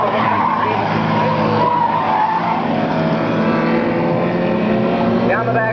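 Race cars lapping an oval track during an event, a loud, continuous roar of engines and tire noise close by with a revving pitch sweep near the end, under excited commentary.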